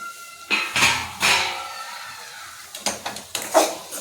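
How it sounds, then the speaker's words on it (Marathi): A metal lid comes off a cooking pan of softened tomatoes and dried fish for ambadi sukat bhat, with a couple of close, ringing clanks followed by a few lighter knocks and scrapes. "आता आपण झाकण काढायचं आहे."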